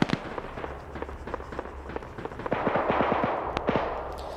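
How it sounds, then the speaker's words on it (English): A light anti-tank rocket strikes a BTR armored vehicle in a military video game, heard as sharp explosive bangs amid rapid bursts of gunfire that build into a louder, dense volley. "Looks like the BTR got hit by light anti-tank."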